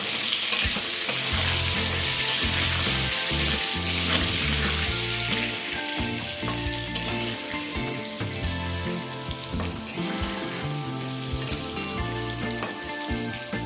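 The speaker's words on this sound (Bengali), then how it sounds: "এবার আলুগুলোকে লালচে করে ভেজে নেব।" Potatoes seasoned with salt and turmeric frying over medium-high heat, a loud, steady close-up sizzle with scattered stirring scrapes and background music, no talking.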